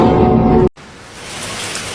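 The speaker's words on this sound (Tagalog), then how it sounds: "kumikidlat, umuulan" Dense, steady hiss of heavy rain with a low rumble underneath cuts out abruptly, then a softer, thinner rain wash continues on its own, with no one speaking.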